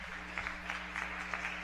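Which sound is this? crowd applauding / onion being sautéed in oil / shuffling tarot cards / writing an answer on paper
crowd applauding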